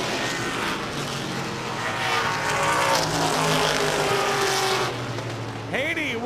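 Race cars roar around a dirt oval, loud and close, with engines swelling as the pack charges through the turns and a brief tire squeal at the end.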